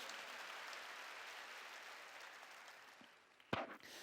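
A church congregation claps during a sermon in a soft, distant wash of applause that tapers off, followed by a few sharp knocks or handling sounds near the end.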